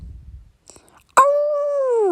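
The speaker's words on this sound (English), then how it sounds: "Aw, Zeus the puppy's back." Zeus, a puppy, lets out one drawn-out, rising whimper that tails into a whine, close and clear, after a few faint soft scuffs.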